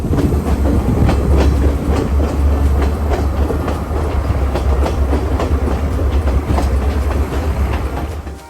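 Steady rumble of a moving train through the Sri Lankan hill country near Ella, with rhythmic clickety-clack of wheels on the rails, loud and close, fading slightly at the end.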